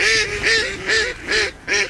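Ducks at Hallcroft Fisheries call out in five loud, close, rhythmic honking quacks, evenly spaced like laughter.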